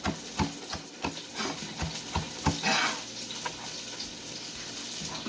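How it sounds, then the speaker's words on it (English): Onions and garlic fry in a pot for a collard green soup, a steady broadband sizzle with a few stirring clatters and scrapes of a utensil, close and fairly loud throughout, with no talking. "So here we have the onions and the garlic. Garlic's just starting to brown"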